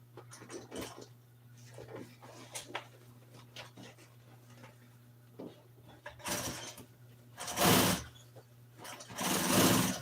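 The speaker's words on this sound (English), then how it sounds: "go ahead and sew it and then put it on" A sewing machine stitches seat covers for a 1955 Chevy in a workshop with a steady low hum underneath. Light clatter comes first, then three loud bursts of stitching near the end.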